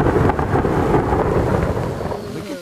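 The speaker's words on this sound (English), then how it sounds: "there's some serious lightning going on" Thunder rolls in a deep, loud, sustained rumble that slowly fades toward the end.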